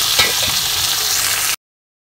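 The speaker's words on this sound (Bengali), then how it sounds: "এটাকে একটু লাল লাল করে ভাজবো আলু আর সজনে ডাঁটাটাকে" Potatoes and drumstick pieces fry in hot oil, a steady loud sizzle with a few stirring scrapes near the start, heard up close with no talk before it cuts off abruptly.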